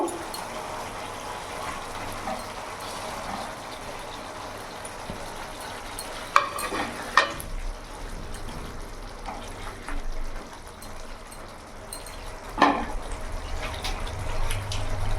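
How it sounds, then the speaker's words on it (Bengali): Fried paneer pieces go into a sizzling pan of aloo paneer curry, a soft, continuous frying hiss broken by a few sharp clunks and scrapes of the pieces and spoon. "এবার এর মধ্যে আমি ভেজে রাখা পনিরগুলো দিয়ে দেবো"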